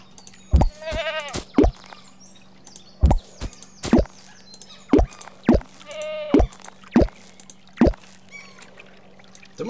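Sheep bleat again and again in the video game Down in Bermuda, short wavering cries mixed with quick plopping and clicking game sounds over a low steady hum.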